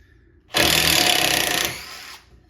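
A Bosch 12V impact driver sinks a screw in one loud burst of about a second of rapid hammering buzz, then winds down briefly before stopping, close and alone.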